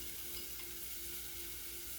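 Chopped brown onions hiss quietly in a pan with spices, a faint, even sizzle holding steady throughout.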